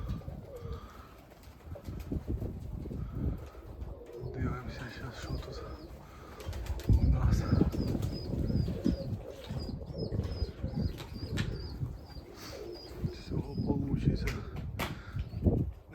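Pigeons cooing nearby with occasional wing flaps as birds take off and land, a steady outdoor murmur underneath.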